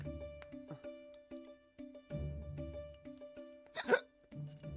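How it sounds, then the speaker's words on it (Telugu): A person hiccups in a dramatic film scene from the Telugu movie Okkadu: two short, sharp hiccups, the second louder, rise over a sustained background tone. "అదేంట్రా అన్నయ్య 2 సార్లు వినబడుతున్నాయి ఎక్కిళ్ళు?"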